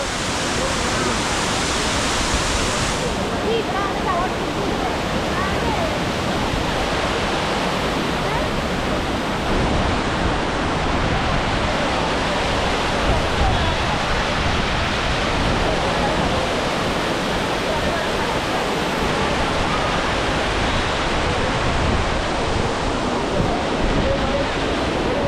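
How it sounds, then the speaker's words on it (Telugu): Silver Cascade waterfall in Kodaikanal roars in a dense, steady rush of falling water, loud and unbroken throughout. "ఇది సిల్వర్ కాస్కాడి వాటర్ ఫాల్స్ అండి"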